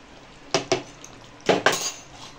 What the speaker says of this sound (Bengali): মিশিয়ে দিয়ে এবার ঢাকা চাপা দিয়ে দেবো